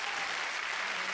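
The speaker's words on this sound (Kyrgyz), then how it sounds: "Эй, баракелди, азаматсыз кол чабуулар сизге." Audience applause at a theatre concert, a dense, steady wash of clapping from a large crowd that holds evenly throughout, moderately distant with no clear voices above it.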